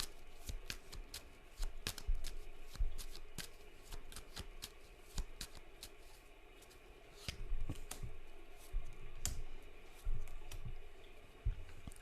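Tarot cards shuffled and drawn close up, a quiet string of crisp flicks and riffling slaps in an irregular rhythm, with sharper snaps as single cards are pulled and laid down.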